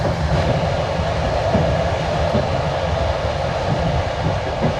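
A long-distance Kyiv–Bucharest passenger train rumbles steadily and loudly, a continuous low roar of rolling wheels with faint rhythmic knocks, no voices.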